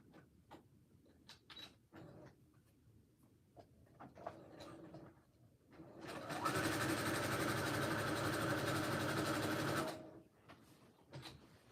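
A sewing machine runs a zigzag stitch through stretchy leopard-print legging fabric, a steady whirring burst of about four seconds, close and fairly loud, framed by quieter handling sounds of fabric and machine before and after.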